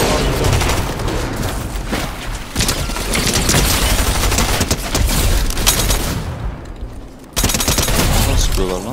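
Dense Fortnite gunfire comes as loud automatic bursts and overlapping shots, with booming impacts filling the whole stretch, briefly dipping before resuming, while players talk over it.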